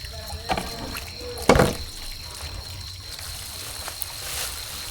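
A fish head rinsed under a running tap in a farm kitchen: a soft, steady trickle of water runs throughout, with one brief louder splash partway through.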